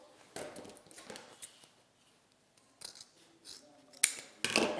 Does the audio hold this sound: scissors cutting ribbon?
yes